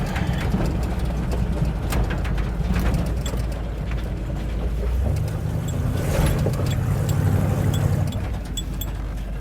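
A Chevrolet square-body truck crawls off-road in low range, its engine a loud, steady rumble with a deeper growl building partway through before it eases off.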